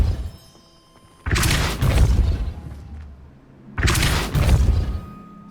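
Two heavy blasts from the Depulso spell in Hogwarts Legacy, each a sudden loud boom with a rushing, crumbling tail, separated by a quieter pause.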